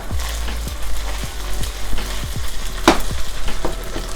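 Beef stir-frying in a hot pan for a tomato stir fry, a loud continuous sizzle broken by rapid, repeated spatula scrapes and knocks against the pan, near and without talk.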